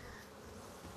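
Honeybees hum inside a hive in a dense, continuous buzz, close and faint, with no talking.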